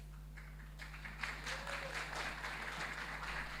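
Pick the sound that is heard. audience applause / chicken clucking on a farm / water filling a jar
audience applause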